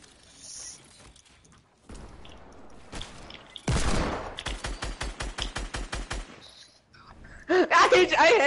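Rapid video game gunfire bursts out in a dense volley of sharp shots, loud and close, between stretches of quieter game sound, with a player's voice talking around it.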